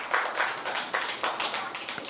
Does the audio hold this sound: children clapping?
yes